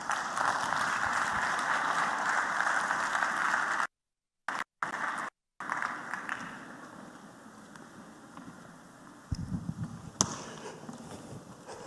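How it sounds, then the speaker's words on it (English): Applause from a ceremony crowd for a speaker at an investment event in Lagos: loud, dense clapping with a few brief gaps, slowly thinning out toward the end. "Another round of applause for Lord Marlander."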